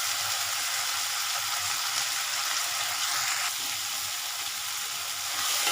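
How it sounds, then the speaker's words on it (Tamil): Onions and tomatoes sautéing with a little salt in a pan give a steady, bright, close-up frying sizzle that holds evenly throughout with no voices. "பாருங்கள், வெங்காயம் தக்காளி நல்லா வதங்கிடுச்சு"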